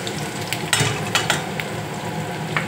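Green chillies and curry leaves fry in a hot pan for mushroom masala, giving a steady close sizzle with a few sharper crackling bursts and spatters throughout.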